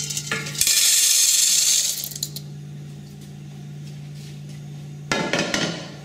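Roasted coffee beans poured into a colander in a small Scandinavian coffee operation, a loud rattling, clattering rush lasting over a second, then a quiet stretch and a second short burst of clatter near the end.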